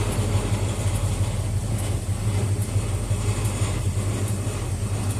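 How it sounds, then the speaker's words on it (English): A Ford E150 van with a swapped-in 351 Windsor V8 drives along with a steady low engine drone, while doors and loose items inside rattle with faint periodic clicks throughout. "New engine, it rattles everything. The doors, anything loose inside it."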